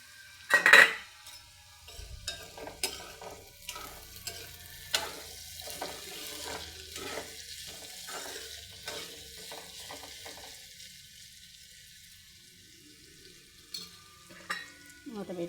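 A pan of tempering for pappucharu, with urad dal, chana dal and cumin frying in oil, sizzles softly while a metal spoon clanks and scrapes in irregular bursts, with a sharp clatter near the start.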